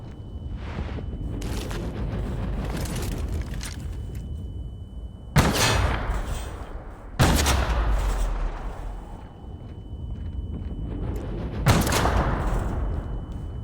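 Heavy video game gunfire with booming blasts: sharp loud impacts strike at intervals over a steady rumbling din, each decaying into a rolling echo.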